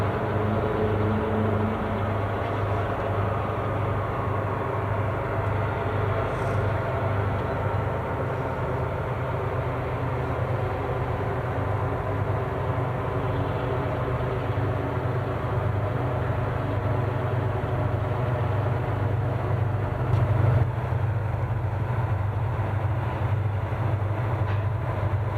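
WP 3002 steam train leaving Ogden Yard after a crew change, heard as a steady, heavy low rumble with rolling mechanical noise that holds at a constant level throughout, with no voices.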